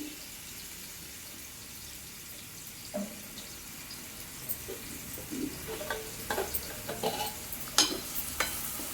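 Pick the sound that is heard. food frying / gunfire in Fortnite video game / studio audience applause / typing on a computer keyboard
food frying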